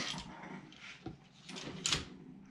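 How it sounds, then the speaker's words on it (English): Dogs whimpering and squabbling nearby in a trapper's setting, short whines and yips rising and falling over a few seconds, with a sharper burst near the end. "My dogs are arguing over here."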